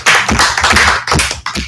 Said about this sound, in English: So can we get a hand clap for this, man?